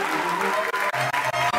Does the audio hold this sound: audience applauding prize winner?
yes